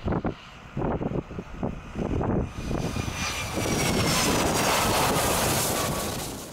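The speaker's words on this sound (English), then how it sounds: "It was a relief to watch our 757 touch down on the blue ice runway" A Boeing 757 touching down on a blue ice runway in Antarctica, heard as a swelling jet engine roar that builds and holds, preceded by gusty wind buffeting the microphone.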